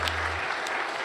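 A brief burst of applause from a church congregation for two DNR staff members, a short, even patter of clapping.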